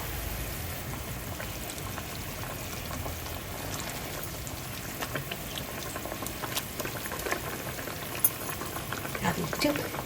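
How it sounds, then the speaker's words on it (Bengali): Masala bubbles at a low boil in a pan as fried fish pieces are added, a faint continuous simmer with soft stirring and occasional small clinks. "মশলাটা সুন্দর বলক চলে এসেছে আশা করি আপনারা দেখতে পাচ্ছেন এখন এতে আমি এক এক করে দিয়ে দিব আমার ভাজা মাছগুলো"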